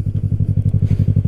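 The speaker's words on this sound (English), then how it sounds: "I try and shift without using the clutch this time." Yamaha motorcycle engine, up close: a steady, rapid low throb of firing pulses during a brief moment of riding while a gear is shifted without the clutch, with no clear break in the beat.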